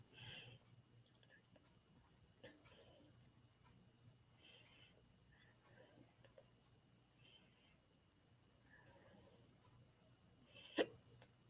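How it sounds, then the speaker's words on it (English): Hiccups from a person, several brief soft catches spread across the stretch, with a sharper, louder one near the end; close and quiet, with no talking over them. "I've got the hiccups again."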